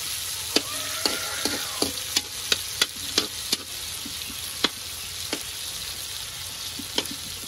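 Utensil stirring sautéed mung beans in a frying pan, with a steady sizzle underneath and a string of sharp scraping clicks that thin out toward the end; no talking.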